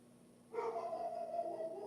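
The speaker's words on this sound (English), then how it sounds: "I don't know if you can even hear him barking probably." A dog barks and howls indoors from somewhere in the house, a short muffled burst that starts suddenly and carries on at moderate level, faint in the distance.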